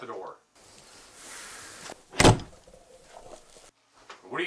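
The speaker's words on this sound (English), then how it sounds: "Shut the door." A door is pushed shut with a single loud, sharp thud midway through, set against a quiet indoor room tone with faint movement before it. Brief voices are heard at the start and end.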